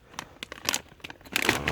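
Scissors snip and tear into a plastic bag of gold paydirt. Short crinkling and crackling bursts come in irregular clusters, close up, with a louder rustle near the end.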